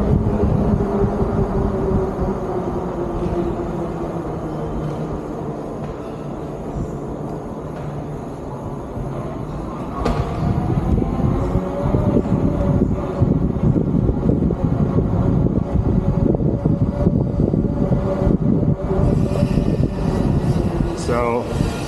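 Steady motor hum and wind rush from a HeyBike Tyson folding electric bike accelerating on a ride while towing a fishing boat, continuous and building slightly midway, under occasional talk.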